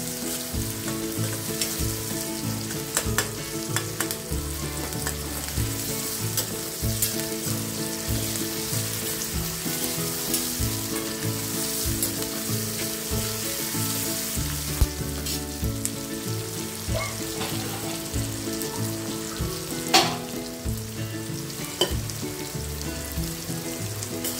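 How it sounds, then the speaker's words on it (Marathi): Onion sizzles in hot tempering oil with salt, a steady dense crackle of frying that runs unbroken, with occasional stirring clinks and no voices. "ते आपल्याला छानपैकी असं परतून घ्यायचंय"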